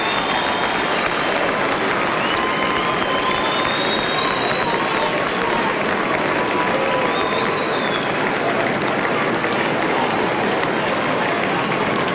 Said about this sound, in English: Applause for Jared Crouch coming from the ground